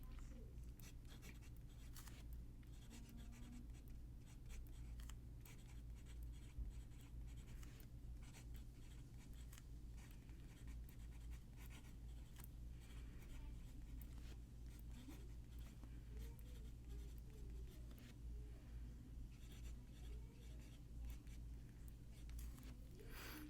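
A pen writes on paper with Diamine Oxford Blue ink, a faint, continuous, close scratching of nib strokes over a low background hum.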